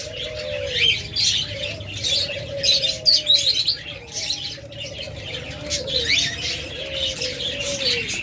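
Caged budgerigars at a bird seller's chirp and chatter continuously, with bright overlapping tweets and warbles over repeated low cooing calls from nearby pigeons or doves.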